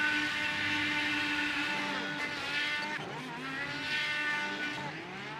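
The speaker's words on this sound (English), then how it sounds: "Ian Montrose and Cliff Mullins touching tips. Doing burnouts together." IndyCar engines in the iRacing sim at Indianapolis, two cars doing burnouts side by side; a sustained high engine whine with shifting pitch and tire scrub, moderately loud and steady throughout.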